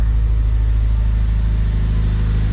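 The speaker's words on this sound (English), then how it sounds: "we rev it up." Acura RSX engine fitted with a new header, running with a steady, loud low rumble that holds constant throughout without clear rev swings, close by and alone with no talking.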